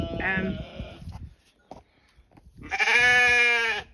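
Dorper sheep bleat loudly and close by, a short bleat at the start followed by a longer, strongly harmonic bleat near the end, with quieter farmyard noise between.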